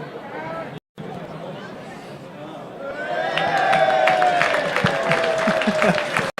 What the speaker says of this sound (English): The crowd giving Strang a bit of an ironic cheer as he makes those 2 points.